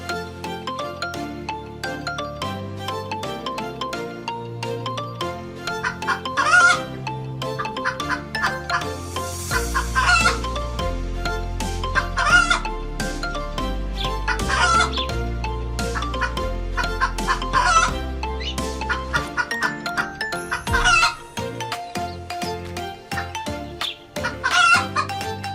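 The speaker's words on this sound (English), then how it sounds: "Chicken." Chickens cluck repeatedly and a rooster crows over a steady backing of music, with the bird calls recurring throughout.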